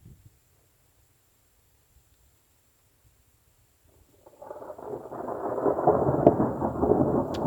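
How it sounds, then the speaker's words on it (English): Thunder following a lightning strike rolls in partway through after near silence, building into a long, deep rumble that stays loud to the end. "There was a nice crack of lightning, and here comes the thunder."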